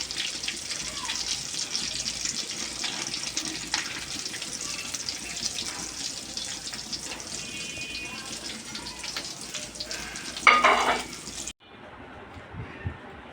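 Potato and beef mince kebabs fry in oil with a continuous, fairly loud sizzle and crackle, ending with a sudden drop to near quiet.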